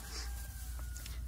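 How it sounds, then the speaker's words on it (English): Chickens on a Texas farm during a 2024 winter storm give a few faint, short clucks over a steady low outdoor hum. They sound distant and quiet, with no talking. "But they're really nice chickens."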